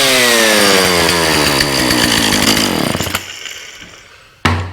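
An old Husqvarna 36 chainsaw just back from carburetor repair, with a busted fuel line, gunked carby and loose fuel pickup fixed, revs loud and close, then winds down to idle and stops, followed by a sharp final knock.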